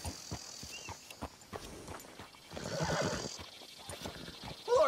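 Hooves clop in an uneven rhythm, followed by a horse's loud whinny near the end, over faint background noise, in Red Dead Redemption 2.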